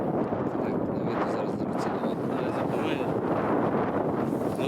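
Steady, loud wind buffeting the microphone in an open field, a continuous broadband rush with no pauses.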